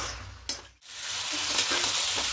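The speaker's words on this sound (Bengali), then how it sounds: "চালটাকে একটু খুব ভালো করে সমস্ত কিছুর সঙ্গে মিশিয়ে একটু ভেজে নিতে হবে" Gobindobhog rice frying and being stirred in a hot pan with spices for kacchi biryani, a steady broadband sizzle with a brief spatula scrape and one sharp dropout midway, no talking.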